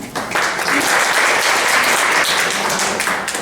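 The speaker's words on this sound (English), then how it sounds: "A big round of applause please." Loud, dense applause from an audience at a homeopathic women doctors' association installation function, a continuous close patter of many hands that holds steady for the whole stretch.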